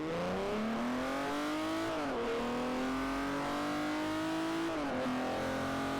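A Saab 9-3 Turbo X in Forza Horizon 4 accelerates hard through several gears, its engine note climbing steadily with brief dips at each shift, loud and close with no talk.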